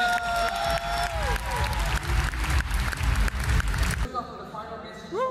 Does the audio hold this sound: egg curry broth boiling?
no